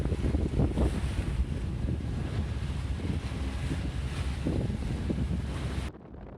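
Strong wind buffets a sailboat at sea as it crosses toward the Peloponnese, a continuous roaring gusting with rumbling microphone buffeting and some wave wash, dropping off near the end.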